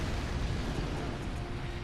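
A Bloodborne boss unleashes an explosive area attack, producing a dense, roaring burst of noise that holds loud and rumbling throughout the short moment, with no clear separate hits.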